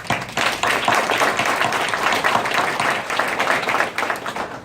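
Steady applause from a crowd at a press conference, dense clapping holding at an even level for several seconds without pause.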